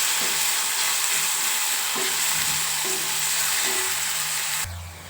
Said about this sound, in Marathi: आता छान असं ब्राऊन रंग येईपर्यंत कांदा आपल्याला परतवून घ्यायचा आहे